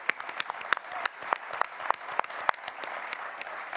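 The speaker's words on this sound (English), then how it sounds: "We can applaud these." Scattered, sparse applause from an audience at a Colorado Springs mayoral debate, with sharp individual claps spaced irregularly at moderate distance, fairly quiet overall.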